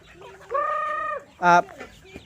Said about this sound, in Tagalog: Yan yung mga native chicken natin